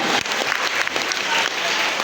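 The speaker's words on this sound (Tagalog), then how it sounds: "Palakpakan po natin ang ating mga magulang" Dense applause from parents and guests at a school recognition day, steady and fairly loud throughout, with crowd murmur mixed in.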